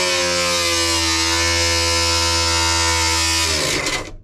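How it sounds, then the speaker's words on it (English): An angle grinder cuts a hole through a metal support on a micro camper build, a loud, close, continuous high whine with a steady buzzing drone that holds evenly for about three and a half seconds before spinning down and fading out. "Now this is where your grinder's going to come in. We need to cut a nibbler sized hole through this support here and here."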